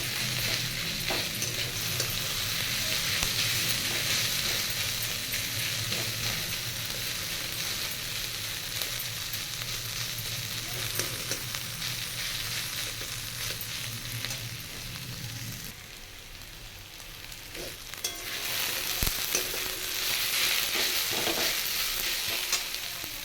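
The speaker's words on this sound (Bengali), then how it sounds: "পেঁয়াজ ভাজা হচ্ছে।" Onions fry in a pan with a constant close, loud sizzle and occasional stirring clatter; the hiss drops briefly near the middle, then swells again toward the end, with no voices.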